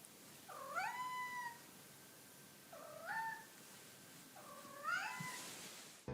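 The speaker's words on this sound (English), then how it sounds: "A final type of meow is a trill meow." A cat gives three rising, chirpy trill meows spaced a couple of seconds apart, each short and clear against a quiet background, with no talking.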